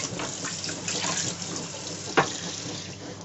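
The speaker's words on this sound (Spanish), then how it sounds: "vamos a coger un poquito de agua" Water runs steadily from a kitchen tap while making pizza dough, a continuous splashing hiss with one brief louder splash partway through, close by and without speech.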